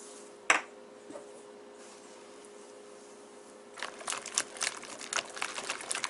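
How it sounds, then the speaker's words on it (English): Sugar being whisked into a honey and egg mixture, beginning after a long quiet stretch with a single sharp knock near the start, then a run of quick, uneven scraping and tapping strokes close by. "Now I'm going to add a 1/4 cup of white sugar and whisk that in."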